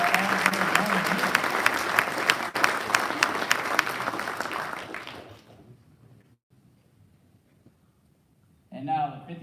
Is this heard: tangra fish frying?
no